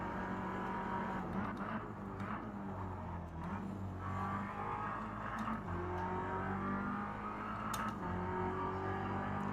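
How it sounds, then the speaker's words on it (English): Race car engine in a sim racing game, droning steadily and revving with rising pitch sweeps through shifts, loud and continuous for the whole stretch. "I'm not expecting the car to rev that quickly."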